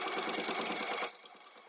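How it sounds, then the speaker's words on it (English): A FAP sewing machine with its walking foot engaged stitches rapidly through quilt-as-you-go log cabin jelly roll strips, a loud steady mechanical chatter that stops about two-thirds through, leaving slower, softer clicks. "I do have my walking foot engaged because I have a FAP sewing machine"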